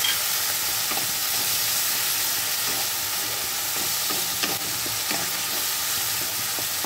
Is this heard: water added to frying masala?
yes